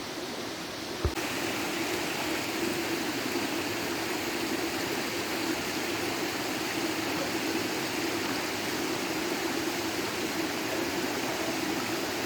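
A river on a walking trail in Guadeloupe rushes over big stones in a steady, broad roar, constant and fairly near from start to finish after a brief knock at the beginning.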